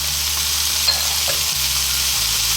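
Potatoes, sweet potatoes and carrots for lumpia fry in a hot pan, giving a steady close sizzle with a few faint scrapes of stirring.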